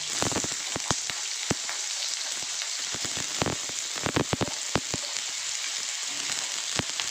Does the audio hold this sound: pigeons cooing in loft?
no